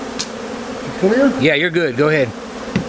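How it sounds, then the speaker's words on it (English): Honey bees buzz during a colony removal, a close, droning hum that swells and wavers in pitch as insects fly near, while people talk briefly over it. "we got a good box of bees here"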